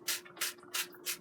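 Cooking spray hisses from a can onto chicken wings before they go into an air fryer, four quick bursts in an even rhythm, close and fairly soft.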